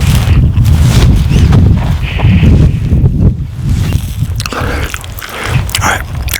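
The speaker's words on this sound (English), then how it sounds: "So the beef heart is very chewy." Close, loud wet chewing and mouth sounds from eating chewy beef heart as part of a fatty one-meal-a-day spread, a steady muffled mashing with no talk.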